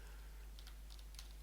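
Quiet computer keyboard typing a short folder name, a few soft key clicks over a steady low hum with no talking.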